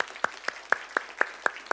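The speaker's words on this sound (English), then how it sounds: "So please, some applause for him." Slow, evenly spaced claps, about eight in a regular rhythm, greet a panelist at a UX strategy conference; few hands, close and distinct.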